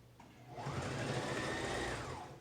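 A sewing machine runs a continuous stretch of stitching on a fabric face mask, its motor whirring evenly and close up for a couple of seconds before slowing, with no voices.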